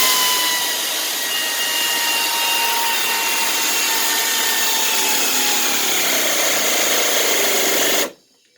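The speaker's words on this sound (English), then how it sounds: "I'll go ahead and tighten up these bolts here for the radiator." A power tool runs continuously while tightening radiator bolts on a 2011 Dodge Avenger, a loud steady whirring whine that cuts off abruptly near the end, no talk.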